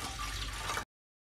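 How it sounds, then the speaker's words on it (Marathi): Water pours steadily into a pressure cooker, which is being readied to boil half a kilo of potatoes for samosa filling. The splash runs as one close, continuous rush for under a second and then stops abruptly, with no talk. "आपण कुकरमध्ये पाणी टाकून घेऊया"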